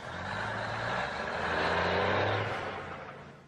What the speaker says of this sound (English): This is what a 30-ton truck sounds like to a toddler.